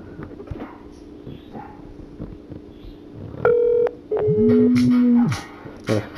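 An iPhone receiving an incoming call, with a clear electronic ring tone sounding in loud bursts near the end, following quieter background noise.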